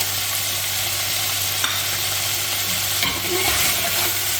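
Whole spices for beef nalli pulao (bay leaves, star anise, black cardamom, black pepper, cinnamon, cloves and cumin) sizzle steadily in hot oil in a pot while being stirred, with a close, even frying hiss, a low hum and occasional scraping, no talk.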